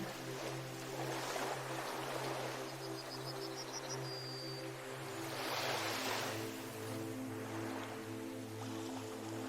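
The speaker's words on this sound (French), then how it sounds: "Bercé par le son des vagues" Ocean waves wash in and recede in slow swells over a steady low drone, with no voices.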